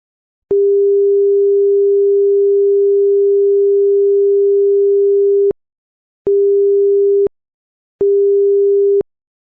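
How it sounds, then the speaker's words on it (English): A vessel sound signal sounds as one prolonged steady tonal blast of about five seconds, then two short blasts of about one second each, clean, loud and alone. "vessel shall make 1 prolonged blast followed by 2 short blasts every 2 minutes"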